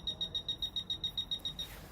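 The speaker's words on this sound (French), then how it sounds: "les bips deviennent de plus en plus rapidement" A series of high electronic beeps from a Fisher F-Pulse metal detector pulses about every tenth of a second, quiet and steady, speeding up, ending abruptly.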